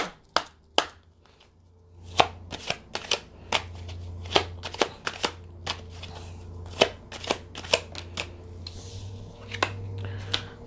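Tarot cards being shuffled and drawn for a pick-a-card reading, a run of sharp close snaps and flicks at an uneven rhythm over a low steady hum, with no talking.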